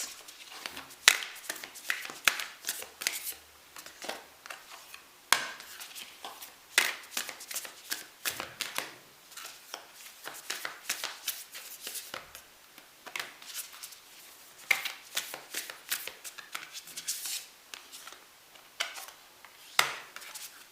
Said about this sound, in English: So I'm going to pull some oracle cards as well for you that could be some advice.